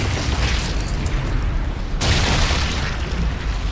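A grenade going off in a video game, a dense, continuous roar of booming blast noise with a sharper burst about halfway through, loud and filling the whole stretch.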